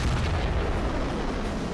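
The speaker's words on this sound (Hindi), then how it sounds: "सिर्फ विस्फोट।" A heavy explosion rumbles with a deep, dense roar that rolls on steadily without any voices.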